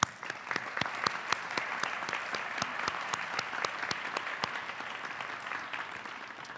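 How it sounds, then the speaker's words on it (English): Audience applause at a senior awards ceremony: steady, dense clapping from a crowd, sustained and even for several seconds with sharp individual claps standing out, fairly close and with no talk over it. "we can give you a round of applause"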